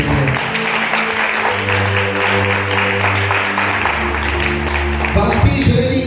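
A congregation at a Sunday church service applauds and cheers steadily, a dense wash of clapping with sustained music tones underneath, swelling slightly near the end.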